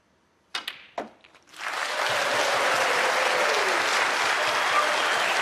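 A snooker crowd at the 2026 Players Championship applauds a 108 century break in the John Higgins versus Chris Wakelin match. A few sharp knocks come first, then loud, sustained clapping swells and fills the hall to the end.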